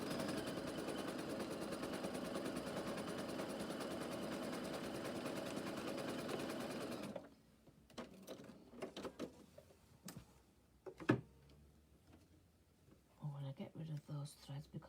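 A sewing machine stitches across a seam in one steady, continuous mechanical whir for about seven seconds, then stops, leaving quieter clicks and handling noises, with a few brief, sharp knocks.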